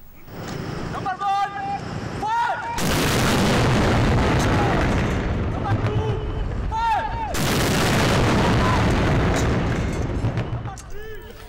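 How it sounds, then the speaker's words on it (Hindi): A 31-gun cannon salute fired in Islamabad on Pakistan's Independence Day, with two long, loud booming blasts that roll on for several seconds, mixed with birdsong and surrounding outdoor noise. "वफाकी दारुल हुकूमत इस्लामाबाद में 31 तोपों की सलामी दी गई"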